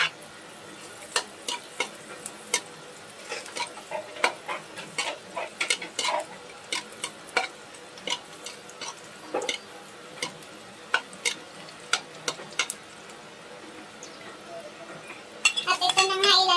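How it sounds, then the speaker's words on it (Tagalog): Garlic frying in a pan and being stirred: repeated light scrapes and clinks of a utensil against the pan over a faint, continuous sizzle, with a louder rush of frying near the end. "hahaluin ang hahaluin hanggang sa maging brown-brown ang ating bawang"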